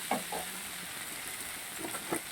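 Katla fish curry masala with green chillies being sautéed in a pan: a faint, steady sizzle broken by a few soft stirring scrapes, with no talking.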